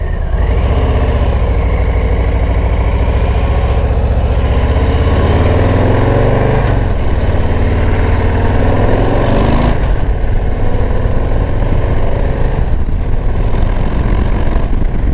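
A Harley-Davidson Low Rider ST motorcycle engine runs loud and close, a deep continuous rumble that rises and shifts in pitch as it revs and changes gear, with no talk over it.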